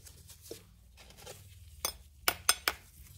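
Stuck plastic bath bomb mold halves rubbed together while making dragon egg bath bombs, giving a soft scraping rasp followed by a few sharp clicks and clacks near the end, close and fairly quiet.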